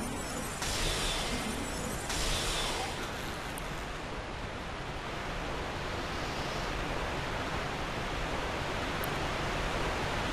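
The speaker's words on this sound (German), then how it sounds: "Wasserfall, du bist laut." A loud waterfall in the video game Dark Souls 2, Scholar of the First Sin, in the Huntsman's Copse area, roars as a dense, constant wash of rushing water with a few brief sharp clatters early on.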